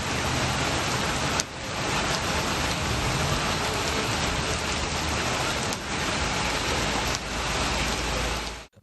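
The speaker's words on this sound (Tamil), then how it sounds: "மேட்டூர் பகுதிகளில் 1/2 மணி நேரத்திற்கு மேலாக கனமழை வெளுத்து வாங்கியது" Heavy rain pours down steadily across the Mettur area in Tamil Nadu, a dense, continuous roar of downpour that stays loud and unbroken, with only brief dips in intensity.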